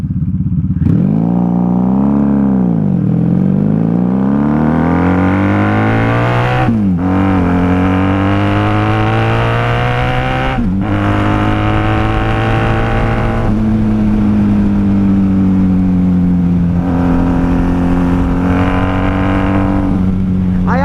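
Rider's-view run on a 1994 Honda Magna VF750C motorcycle, its V4 engine loud and continuous, climbing through a rev sweep early on and then holding a strong steady drone through gear changes, close up with no speech.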